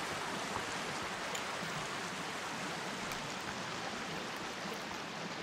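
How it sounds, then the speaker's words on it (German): A waterfall in the video game Sons of the Forest gives a steady, faint rushing hiss of falling water, even and unbroken throughout with no voices. "Aber schon cool gemacht hier mit dem Wasserfall"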